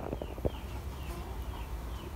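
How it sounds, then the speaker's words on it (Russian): Farmyard chickens clucking in a rural yard on a morning, a few short low clucks near the start, then steady outdoor ambience with faint bird chirps in the background. "Птички поют, куры волнуются"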